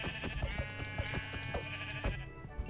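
Sheep bleating in the Minecraft video game, several short wavering bleats repeating steadily over a constant dense background of game sound, with no talking.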